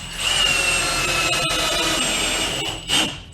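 A power drill drives Torx screws into wooden hockey boards, a steady loud whir running nearly three seconds, then a short second burst as the screw seats.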